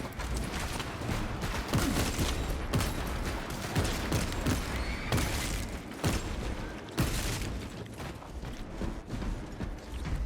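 Heavy bolt rifle shots in the video game Space Marine 2 ring out amid dense battle noise, several sharp cracks spaced a second or two apart over a constant loud rumble of combat.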